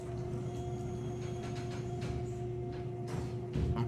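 A video game elevator descending to street level gives a steady droning hum with a low tonal whine and faint rattling, moderately loud and continuous, with a slight bump near the end.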